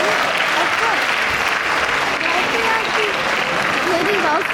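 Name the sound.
applause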